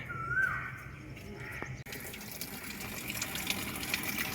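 Water gushes and spills over from a filled tank fed by a pump, a steady close rushing splash that runs unbroken throughout with no voices.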